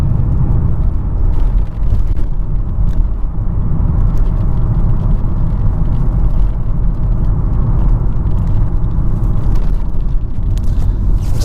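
Audi 80 engine pulling steadily in third gear at about 25 mph, a loud continuous low rumble with road noise, even and unbroken throughout, heard from inside the car.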